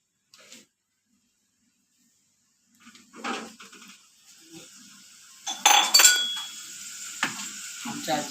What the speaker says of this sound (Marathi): आता आधी मी तेल टाकते.